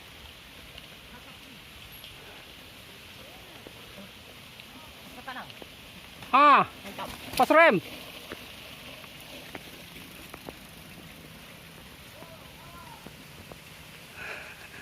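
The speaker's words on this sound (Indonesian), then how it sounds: "Hujan guys." Rain falls steadily during a bicycle ride as a soft, continuous hiss, with a couple of short louder bursts partway through and brief voices from the riders.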